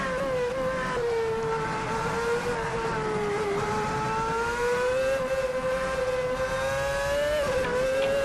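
A VRC F2007 Formula One car in Assetto Corsa screams along at high revs, a loud, continuous tonal engine whine that holds steady with slight pitch wobbles and a brief dip near the end as the car shifts or lifts.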